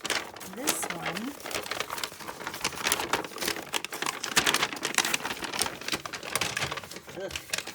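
Scissors cut through card for a journal with dense, crisp snipping and crinkling, fairly close and continuous. A voice speaks over part of it.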